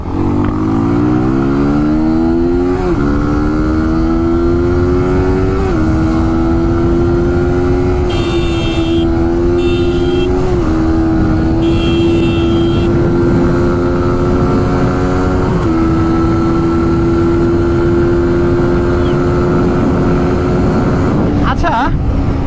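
A Suzuki 150cc motorcycle engine revs loud and close, its pitch climbing and dropping back in repeated steps as it accelerates through the gears without a break.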